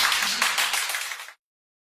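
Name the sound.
applause welcoming actor Wang Hedi on stage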